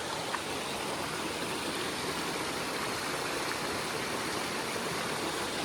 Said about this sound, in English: Cool little waterfall over there.